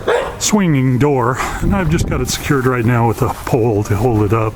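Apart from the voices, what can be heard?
neighbor's dog barking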